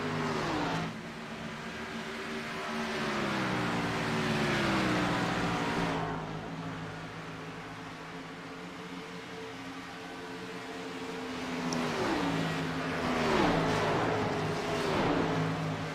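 Race cars lap the track during a SCAR (Superior Class Auto Racing) championship race, their engines droning and shifting pitch as the pack passes, loud and continuous, with distant crowd or track ambience.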